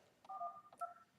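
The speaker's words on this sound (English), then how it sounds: "I don't have to push anything, just start dialing." Touch-tone keys dialed on an office desk phone's speakerphone with the handset in its cradle: a few quick DTMF beeps in succession, two longer tones clearly separated, heard alone at moderate level.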